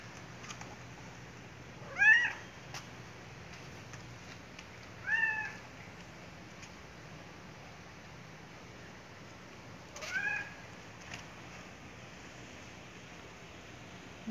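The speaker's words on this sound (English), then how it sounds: "Lazy cat." A cat that has climbed onto a car meows three times, spaced several seconds apart, each call fairly faint over a low, quiet background hiss.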